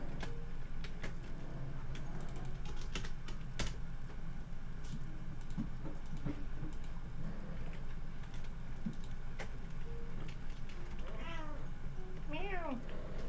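A cat meows a few times near the end, indoors, close by and moderately clear over a background of ticking and tapping.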